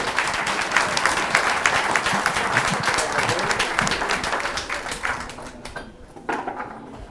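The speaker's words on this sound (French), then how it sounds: "Vous pouvez l'applaudir en tout cas, il applaudit à tous les candidats." An audience at an oyster-opening contest applauds a contestant, with sustained dense clapping that thins out toward the end before a brief final flurry.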